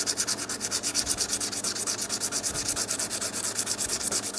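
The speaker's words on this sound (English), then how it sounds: "we got her sanded up through 600 grit" Sandpaper rubbed by hand over a rusty wire cutter dug up from a garden, giving a rapid, even back-and-forth scratching rhythm, close and continuous with no voices.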